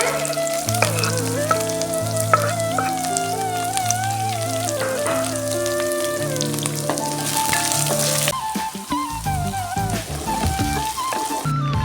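Onions fry in a pan with a steady sizzle that sits under loud melodic background music throughout.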